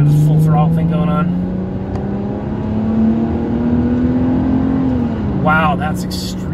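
A Mercedes-Benz E320 W210 V6 with the catalytic converter deleted and a Flowmaster muffler revs at full throttle, its steady loud engine note climbing and holding before easing back, with brief voice-like sounds near the start and end.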